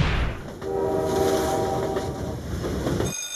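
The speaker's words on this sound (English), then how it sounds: "monitoring trains through an analysis of sound and vibration as the carriages travel along the rails" A passenger train rolls along the rails close by, a steady loud rumble with wheel noise, tonal squeal and brake-like whine across the whole stretch before it cuts off abruptly at the end.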